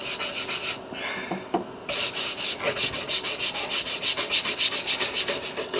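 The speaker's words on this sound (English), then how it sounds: "This is a little harder bristle brush" A harder bristle brush scrubbing a fossil needle fish, loud rapid rhythmic scratchy strokes close up, with a short pause partway through before the brisk back-and-forth scrubbing resumes.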